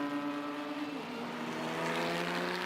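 A Porsche 991.2 GT3 race car at the Arágon circuit gives a steady, high-pitched engine note, distant and sustained, with its pitch sliding down partway through.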